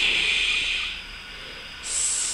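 A voice imitates a snake's hiss, producing a steady, breathy, sustained sibilant sound close up that shifts higher in pitch partway through, with no other talk.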